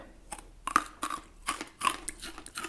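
A dried peach snack is crunched up close: several sharp, crisp bites and chews arrive in an uneven rhythm, with brief quiet gaps between them.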